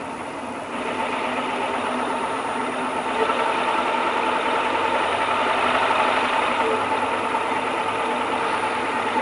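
A wood lathe spins up at a slow speed of about 550 RPM while a natural-edge winged bowl is being turned, giving a steady, even motor hum that holds constant, with a slight rise partway through.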